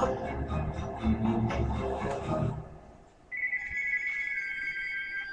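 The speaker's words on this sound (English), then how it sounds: "My phone's ringing, but I'm not gonna answer it" A mobile phone rings with a steady electronic tone after about three seconds of dense game noise, the ringtone sitting clearly above a lower background hum.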